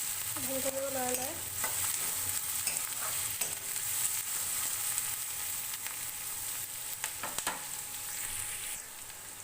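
Onions stir-frying in a pan for a homemade onion chutney make a continuous near sizzle with occasional spatula scrapes, and there is no speech.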